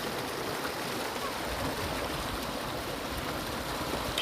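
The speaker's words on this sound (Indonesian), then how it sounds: "ini Sungai Batang Merangin." The Batang Merangin river in Kerinci flows steadily, a continuous broadband rush of water heard close up without a break.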